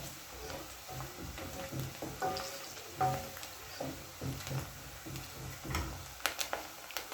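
Onions frying for beef pilau, sizzling steadily in hot oil with irregular crackles and the occasional scrape of a stirring utensil, close and fairly quiet, with no voices.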